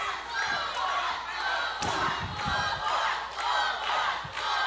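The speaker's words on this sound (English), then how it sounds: "Crowd's getting behind Full Force, chanting his name." Independent pro wrestling crowd chanting a wrestler's name in rhythmic waves, loud and sustained across the arena, with a few thuds from the ring underneath.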